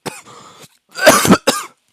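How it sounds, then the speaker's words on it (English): A few harsh, throaty coughs close up: one short hack, a pause, then two louder bursts in quick succession. "Sorry, I'm coughing."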